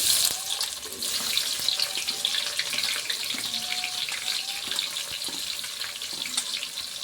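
Onion sizzles in hot oil along with green chillies, giving a continuous hissing crackle with small spits and pops, close and fairly even in level throughout.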